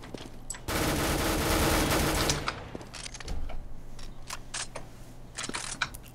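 Gunfire in the CS:GO video game: a loud sustained automatic burst lasting over a second, then scattered sharp single shots and short bursts, some nearer and some fainter, with no speech.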